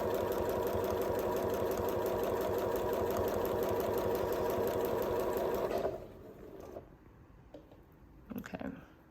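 A sewing machine runs steadily, stitching fabric for a Flying Geese quilt block with a fast, even mechanical chatter for about six seconds, then stops, leaving faint handling noises and small clicks.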